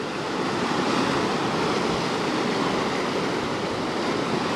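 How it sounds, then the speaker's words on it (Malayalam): Sea waves surge and crash against rocks in a narrow gap between two boulders on the Kozhikode coast, a loud, continuous roaring wash with no voices. "എന്താ കടൽ വന്ന് അടിച്ച് കയറുന്നതാണ്ട."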